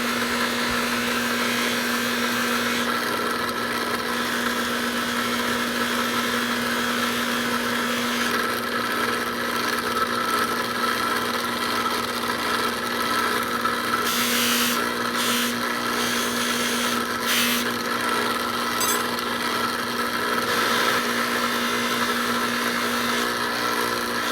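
Buffing wheel doing rough polishing on aluminum, a steady continuous motor whine with a constant hum running throughout, with a few brief brighter grinding bursts midway; no talking.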